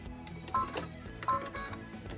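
An embroidery machine stitches a cut line on a fabric zipper pouch held in the hoop, giving off a steady mechanical chatter with two sharper clunks as the needle drives through the layers.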